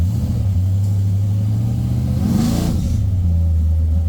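A supercharged 1968 Chevrolet Camaro, a very low car with headers, pulls away hard, its engine a loud steady rumble that surges into a brief rising rev midway before settling back to a deep drone.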